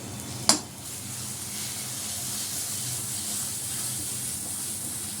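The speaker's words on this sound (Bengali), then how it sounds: "এইভাবে একদম নেড়ে নেড়ে একদম শুকনো করে ড্রাই করে ফেলতে হবে" A mixture being stirred and fried dry in a pan, with salt and flour added, gives a steady soft sizzle and hiss throughout, broken by one sharp utensil knock near the start.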